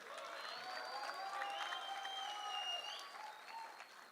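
Audience applause at a corporate storytelling event in India, a steady crowd of clapping hands that holds for several seconds and then tapers slightly toward the end.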